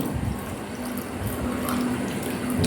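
Water runs and trickles out of an organic sanitary napkin during an absorbency test, a steady pouring and splashing like a tap filling a sink, continuous and fairly close with no talk.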